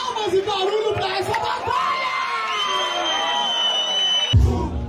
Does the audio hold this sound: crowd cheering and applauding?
yes